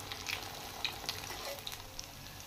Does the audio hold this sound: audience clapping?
no